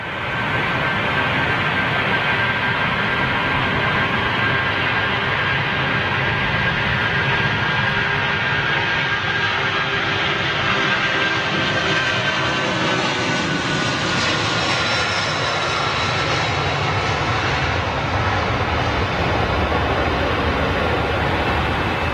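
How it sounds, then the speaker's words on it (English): A Virgin Airbus A340-600 takes off at Heathrow, its four jet engines producing a loud, sustained full-power roar that stays steady and powerful throughout. "That Virgin 346 is going out."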